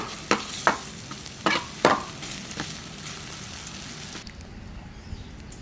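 Onions sizzle in a hot pan, with a few sharp clatters of stirring early on before the sizzle quiets near the end.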